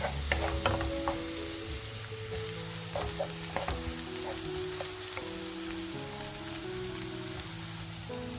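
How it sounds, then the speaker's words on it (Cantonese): Ginger, scallion and garlic hit hot oil in a wok over medium-high heat, making a continuous close sizzle with scattered pops, all under a steady musical background and without talk. "中大火熱鑊熱油，將薑、蔥、蒜頭呢啲嘢倒晒佢落去"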